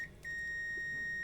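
A digital multimeter set to continuity emits a steady, clear electronic tone as its probes touch, briefly interrupted near the start before sounding continuously, with quiet room background.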